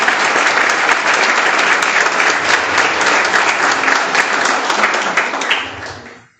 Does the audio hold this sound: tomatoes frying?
no